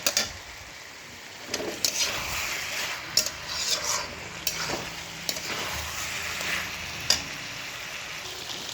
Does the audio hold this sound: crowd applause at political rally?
no